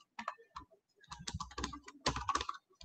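Quick bursts of clacky keystrokes on a wired USB mechanical keyboard, close and crisp, with brief pauses between runs of typing.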